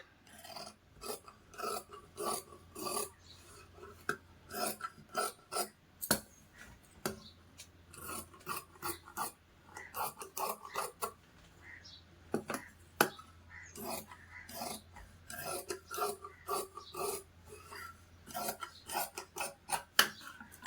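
Scissors snip through blouse fabric in quick, repeated crisp rasping cuts close by. The cuts come in uneven bursts throughout, and no voices are heard.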